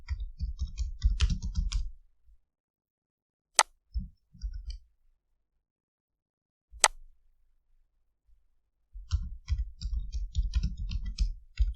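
Code typed on a computer keyboard, dense bursts of rapid close keystrokes at the start and end with a few isolated sharp clicks and short taps in the quiet middle.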